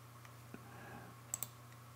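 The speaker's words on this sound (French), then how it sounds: "Et on clique sur « Créer le plan »" A computer mouse clicking while creating a network plan in software: a couple of quick, faint, close clicks over a low steady hum, with no talk.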